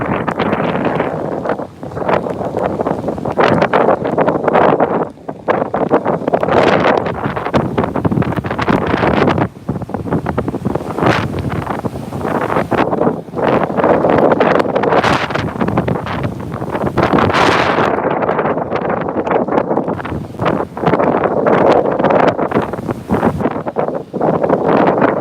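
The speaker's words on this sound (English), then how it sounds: "The wind's very strong out of the northeast here" Strong north-northeast hurricane wind from Hurricane Dorian in Florida roars and buffets the microphone in heavy, surging gusts, loud and close, with brief lulls between blasts and no voices.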